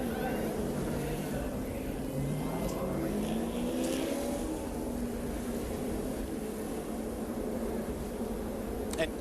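A constant roar of stock cars racing at Talladega Superspeedway fills the scene, engine pitch sliding up and down as cars pass, with a faint voice occasionally under the noise.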